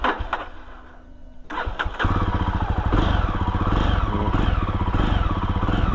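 A Jawa Perak bobber motorcycle cranks briefly, then fires up and settles into a loud, steady thumping idle close by, with no talk over it.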